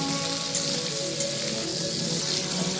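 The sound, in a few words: potato and pointed gourd frying in a pan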